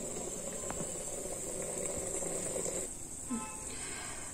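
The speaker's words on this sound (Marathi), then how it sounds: "हे बघा, ह्याला आता व्यवस्थित उकळी आली आहे।" Malvani-style tomato saar comes to a rolling boil in a pot on high gas, a soft, steady bubbling and simmer hiss under a faint constant whine, close and quiet.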